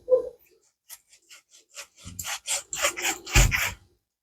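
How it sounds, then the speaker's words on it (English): Cooked pork being chopped for canning: a few soft scattered knocks, then a quick run of sharp, close cutting strikes that grow denser and louder, ending in a heavier chop, with no voices. "I'm going to chop it and start putting it back into the bowl."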